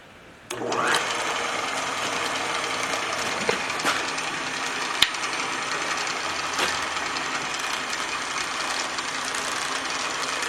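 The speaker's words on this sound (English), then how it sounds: "I don't want to bore you with just watching the boring bar work, but I'm going to flip this guy on" A boring bar cuts a Willys engine cylinder for a sleeve, making a steady, loud mechanical whir and hum that starts abruptly and holds even. Faint clicks and knocks turn up now and then.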